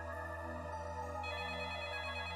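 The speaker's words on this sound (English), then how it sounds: "As soon as I got home, the phone rang." A telephone ringtone chimes continuously in a repeating melodic pattern, steady and fairly clear, with no voices over it, heard on a rainy night after arriving home.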